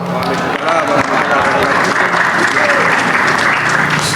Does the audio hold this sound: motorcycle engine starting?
no